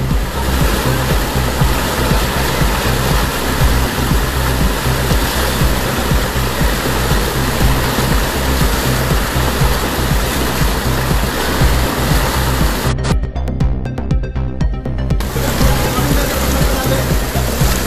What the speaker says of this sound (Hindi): इधर देखो आप कैसा आ रहा पानी।